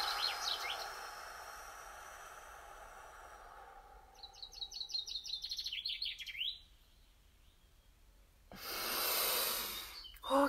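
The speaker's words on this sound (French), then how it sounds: "Et soufflez sur 8." A slow exhale lasting about two seconds comes near the end of a 4-7-8 breathing exercise done outdoors in the rain. Bird chirps and calls come before it, and a short breathy sound follows.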